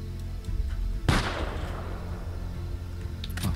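A single loud sniper rifle shot cracks in the multiplayer survival game Byte Fyte, followed by a decaying echo over quiet game ambience.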